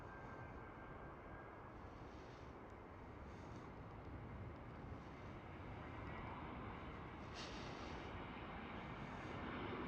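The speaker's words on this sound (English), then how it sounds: "EasyJet Airbus A319." EasyJet Airbus A319 at Schiphol airport, a continuous broad jet engine roar that holds steady and swells slightly toward the end, heard from a distance with no speech.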